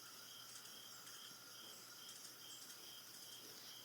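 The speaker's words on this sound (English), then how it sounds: "finally crickets chirping brought me back to reality" Crickets chirp steadily in a quiet nighttime scene in the visual novel Everlasting Summer, a soft, continuous high trill with pulsing texture and no voices.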